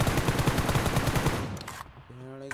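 Rapid automatic gunfire in the mobile shooter BGMI, a fast, loud, close burst of shots that stops after about a second and a half, followed by a short in-game chime.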